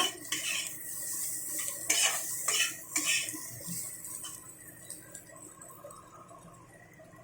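Rohu fish being stirred with spices in a metal pan, with repeated close scraping and clinking of a utensil over a soft sizzle, busier at first and then easing off.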